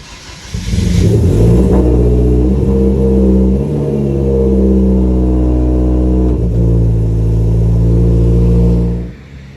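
Hyundai Genesis Coupe engine catching and settling into a loud, steady idle after starting, with a brief rev early on and a deep rumble that cuts off abruptly at the end.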